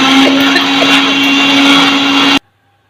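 An electric mixer grinder runs on ginger pieces, giving a loud, close, steady whirring drone that cuts off abruptly near the end, leaving silence.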